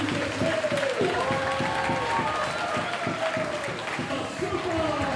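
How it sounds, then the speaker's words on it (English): Crowd cheering and clapping for an athlete at a women's parkour skills competition, a busy roar behind a commentator's voice that runs over it the whole time. "you can hear the crowd right behind me hyping up"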